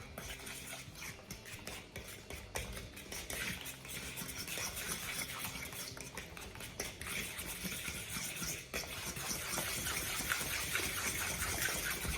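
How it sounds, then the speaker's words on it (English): Brown sugar is stirred into banana fritter batter, producing a continuous close scraping and sloshing of a utensil in a bowl that grows busier toward the end. "Stir it up."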